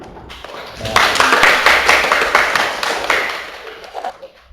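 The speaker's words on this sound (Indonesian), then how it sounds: "Tepuk tangan." A seventh-grade classroom breaks into applause after a student presentation, a burst of hand clapping that swells quickly, holds for a few seconds and tapers off near the end.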